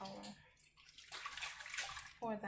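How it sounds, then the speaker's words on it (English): Elderberry liquid splashes and sloshes as it is poured back into a pot, a brief wet gurgling burst, with a voice speaking briefly at the start and end. "Pour that liquid back in."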